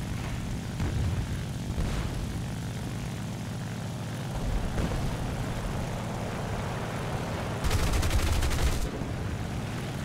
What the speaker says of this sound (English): Now, I'm going to make a few anticipatory bursts here, where I was firing ahead of time